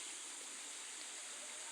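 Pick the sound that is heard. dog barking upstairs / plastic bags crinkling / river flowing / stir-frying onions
river flowing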